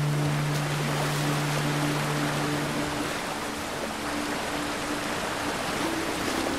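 Rushing river water in The Last of Us Part II, a steady broadband flow with a faint hum in the opening seconds, continuous and fairly loud throughout.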